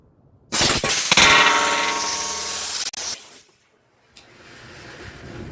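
A rocket-propelled dart strikes a glass with a loud, sharp clang that cracks it slightly, followed by a sustained hissing rush that cuts off abruptly and gives way to faint, low background noise.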